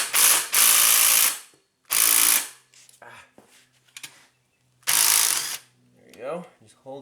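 Impact wrench hammering loose a fastener during a Nissan CVT transmission teardown, firing in three short loud bursts separated by pauses, with faint clinks of metal parts between them.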